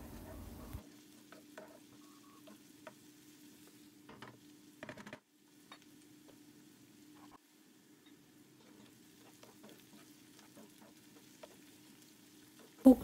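Onions sautéing and being stirred in a pan give a faint, steady sizzle with scattered scrapes and taps of the utensil, and a louder clatter near the end.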